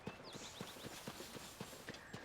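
Horse hooves clip-clopping at a steady walking rhythm in Zelda: Tears of the Kingdom, near the Fort Hateno cave area, about nine even strikes over a soft game ambience with a few high chime-like tones.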